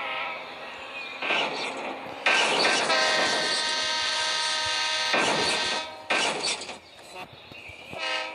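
A train in the Roblox video game rushes past, a loud sustained blast of horn-like tones and rumbling wagons that swells, cuts out briefly, and returns in bursts.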